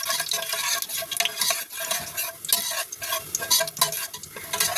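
Dried red chilies and whole cumin crackle and sizzle in hot oil while a utensil stirs and scrapes the pan in uneven bursts; close and fairly loud, no speech.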